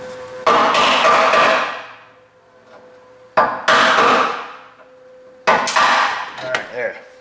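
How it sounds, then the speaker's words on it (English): A hammer drives a punch against a cooling fan rivet on a Chrysler Town & Country or Caravan, in three loud bursts of rapid metallic strikes separated by pauses. "See if we can knock the rest of that rivet down."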